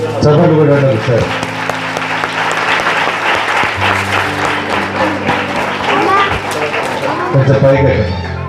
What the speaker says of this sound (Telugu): చప్పట్లు కూడా సార్